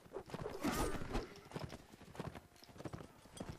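Horses gallop across a battlefield in Mount & Blade: Warband, a quick, fairly faint clatter of hoofbeats with a denser burst early on and scattered background noise.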